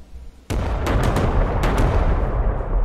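A bombing strike in the WWII strategy video game Panzer Corps 2 lands with a sudden loud boom, followed by several sharp blasts and a rolling, rumbling explosion tail.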